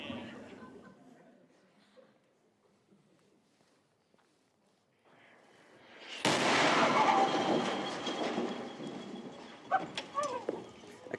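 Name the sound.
American artillery test firing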